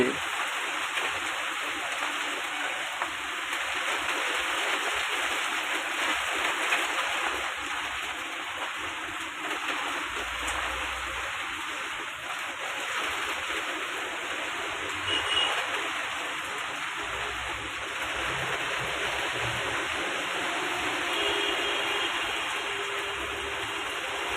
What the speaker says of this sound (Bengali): এটা হচ্ছে একটা হাইড্রেন এখান থেকে জল চলে যাচ্ছে বৃষ্টিও পড়ছে বৃষ্টি জলও চলে যাচ্ছে